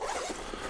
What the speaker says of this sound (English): So we have this zipper here